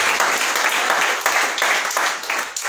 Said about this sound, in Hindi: आइए हम ताली अपने लिए भी बजाएं कि हम लोग कलीसिया में मौजूद हैं और यीशु मसीह ने हमें उद्धार दिया है।